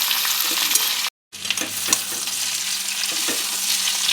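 Flat beans, green chillies and potatoes fry in a pan with a steady close sizzle, broken by a brief silent gap, with scraping stirring sounds throughout.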